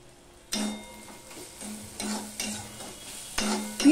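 Salted onions fry in oil in a pan and are stirred in a slow rhythm of scraping strokes over a soft, close sizzle.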